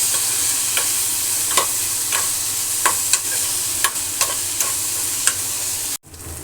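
Spoon stirring ground cinnamon and clove into a sizzling potato curry in a pan, with steady frying hiss and repeated sharp scraping clicks close up, then the sound cuts out abruptly near the end.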